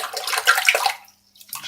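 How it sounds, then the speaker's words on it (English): A dry shaving brush is plunged into water, giving a steady splashy gurgle that fades into a near-silent pause before a softer trickle returns. "Just dunk it in the water."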